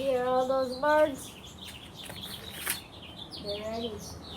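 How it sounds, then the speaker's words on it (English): Birds chirp outdoors near a feeding spot, with bursts of rising harmonic calls at the start and end and scattered short tweets in between, close and clear. "You hear all those birds?"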